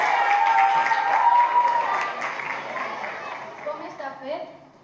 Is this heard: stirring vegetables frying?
no